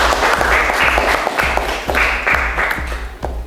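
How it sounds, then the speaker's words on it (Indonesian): A classroom of pupils claps together in a short, loud burst of applause, the claps landing in a fairly steady, roughly unified rhythm. "Tepuk tangan untuk semuanya dulu ya."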